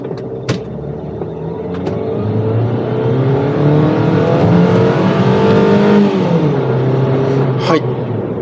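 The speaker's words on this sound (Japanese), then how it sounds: "60キロまで加速します。" A Toyota TownAce camper van pulls away from a traffic light and accelerates hard to 60 km/h, its engine revving up through rising, climbing tones that swell and hold loud. Brief clicks and knocks sound near the start.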